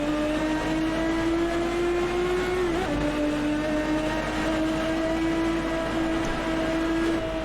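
A Maserati MC12 engine in the Assetto Corsa racing game holds a steady, loud tonal drone with a brief dip in pitch midway, as if easing off the throttle, then pulls on evenly.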